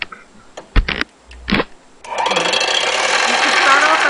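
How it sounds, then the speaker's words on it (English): A few short clicks and thumps, then an electric mixer whirs on steadily, blending shea butter with oils, running continuously and loud to the end. "Now you're going to need a mixer to mix this."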